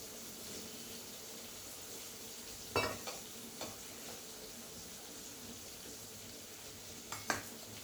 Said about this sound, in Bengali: এবার পেঁয়াজ রসুন আদা কুচি সব আমি ভালো করে ভেজে নিচ্ছি